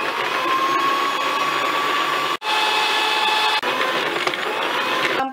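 An electric stand mixer kneads bread dough for fried chocolate bread, a steady loud whirring motor hum with one brief cutoff and a small dip partway through.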